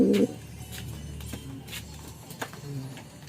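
Pigeons in a loft coo in soft, low bursts, a brief close coo at the start and fainter calls after it, with background rustling.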